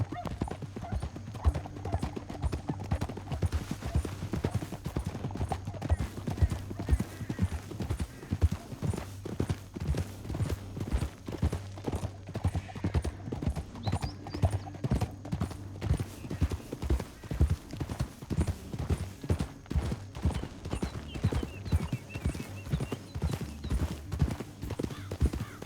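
Horse hooves in the video game Red Dead Redemption 2 clip-clop in a steady trotting rhythm for a long stretch, close and clear, with occasional snorts and a low rumble beneath.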